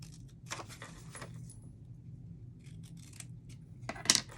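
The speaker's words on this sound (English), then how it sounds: "Now, you're going to cut these corners totally out." Scissors cutting paper corners out just past a score mark during card making, giving a few soft, close snips and rustles followed by a brighter metallic clink near the end.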